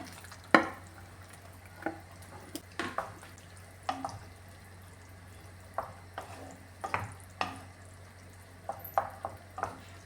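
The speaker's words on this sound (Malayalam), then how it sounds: "ഇത് നന്നായിട്ടൊന്ന് തിളച്ചിട്ടുണ്ട് ഇതിലേക്ക് ഈ വെണ്ടയ്ക്ക ചേർത്ത് കൊടുക്കാമേ" Okra pieces going into a pot of boiling masala curry and being stirred, with a steady low bubbling simmer under a series of short, close clinks and scrapes from the spoon and pot.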